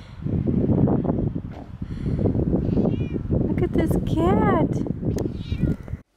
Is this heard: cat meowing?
yes